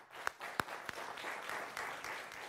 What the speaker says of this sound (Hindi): आप दोनों के लिए जोरदार तालियां।